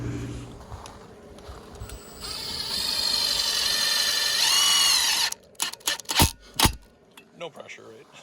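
A power drill drives screws down into a composite deck post, a rising whine for a few seconds that ends in sharp clicks and clunks of the tool, close up.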